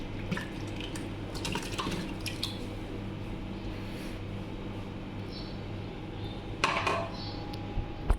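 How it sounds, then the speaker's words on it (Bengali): Homemade soup is poured into a hotpot in a home kitchen, with wet sloshing, squishing and dripping sounds that are close and fairly quiet, with a few louder splashes near the end. "এখন আমি এটাকে হটপটে ঢাইলা নিব।"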